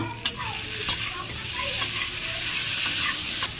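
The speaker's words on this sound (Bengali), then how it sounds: "সবজিটা এবারে নাড়িয়ে নেব" Pointed gourd curry with spices is stirred in a hot pan: a constant close sizzle with a few distinct scrapes and knocks of the spatula at irregular intervals.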